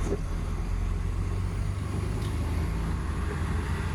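Stalled road traffic near Manila North Port gives a steady low rumble of idling engines that fills the whole stretch evenly, with no voices over it.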